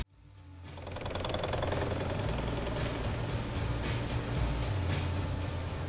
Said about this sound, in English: So Brandon throws the black sealer in the shaker